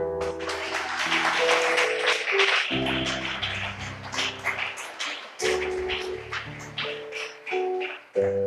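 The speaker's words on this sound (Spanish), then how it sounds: "Dele ese fuerte aplauso al Señor." A church congregation breaks into loud applause, with dense clapping mixed with music and held tones, swelling and easing across the clip before a short gap and a fresh burst.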